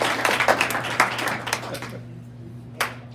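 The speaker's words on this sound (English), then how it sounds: "I'm not used to a resounding applause like that." Audience applause at a club meeting, a burst of clapping from a room of people that fades out after about two seconds, followed by a single late clap.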